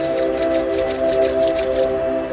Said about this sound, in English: Now slowly rub your palms